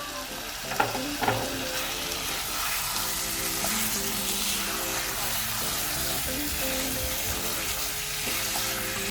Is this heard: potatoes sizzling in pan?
yes